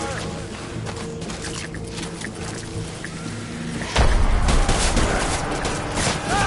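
Gunfire in Death Stranding, a sudden loud burst of rapid shots cutting in partway through and continuing over a busy rushing background.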